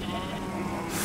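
A sheep bleats steadily at close range against a dense, continuous background, the call holding for about a second before ending in a burst of hiss.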